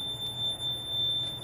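A Mircom FX-2000 fire alarm panel, heard through its emergency telephone, sounds a steady high-pitched alarm tone, continuous and fairly faint over a low background hum.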